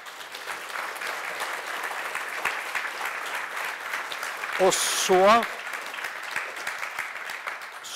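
Audience applause after a talk fills the whole stretch as a steady, fairly loud wash of clapping, with a voice briefly speaking partway through.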